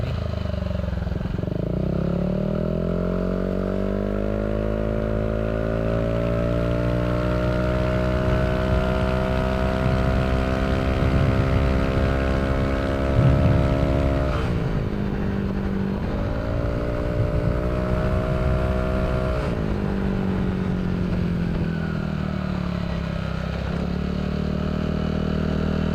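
Motorcycle fitted with a Villan SR1 aftermarket exhaust revving up from idle, its engine note rising steadily in pitch, dropping back briefly and climbing again, loud and close for the whole stretch.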